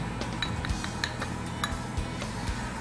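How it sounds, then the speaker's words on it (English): A utensil stirs heavy cream into cream of artichoke soup in a pot, giving a soft steady run of light clinks and scrapes against the metal, close and quiet with no talk. "So now we stir this through."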